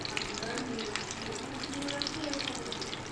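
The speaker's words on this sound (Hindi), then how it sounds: "अब हम साइड चेंज करके दूसरी साइड से जो है इसको फ्राई करेंगे।" Chickpea kebabs sizzle steadily in a frying pan after being flipped to the other side, a continuous close crackle with faint voice-like murmurs beneath.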